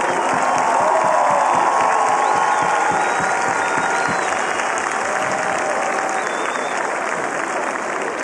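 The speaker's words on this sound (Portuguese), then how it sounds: "uma salva de palmas para o staff." Stadium crowd claps and cheers for the club staff during a celebration speech, a dense, loud, continuous roar of applause with no voice on top.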